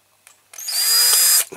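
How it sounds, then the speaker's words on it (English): A power drill bores into a die-cast metal toy part from a Dinky Toys Field Marshall tractor. A brief spin-up is followed by a loud, steady whine of about a second, close up, with no speech. "See if we can drill that out."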